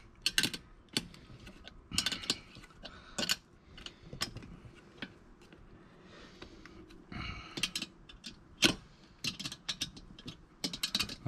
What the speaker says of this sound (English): we tighten all this up. Use our 10mm spanner, and we get that really,